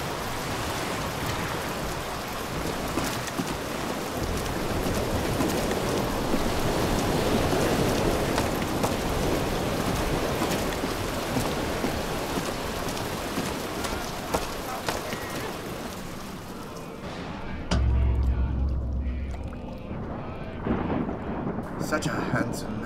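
Video game thunderstorm in Bioshock Infinite, a loud continuous wash of rain and rumbling thunder that cuts out near the end to a quieter scene with a low thud, a voice talking over it.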